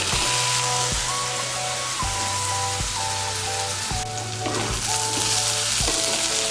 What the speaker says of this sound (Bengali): এখন সবজিগুলোকে ভালো করে আর একটু ভেজে নেব।